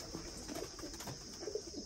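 Soft pigeon cooing from a Royal Teddy breed of racing pigeon in a loft, low murmuring coos recurring in short bursts against a steady background hiss, no talking.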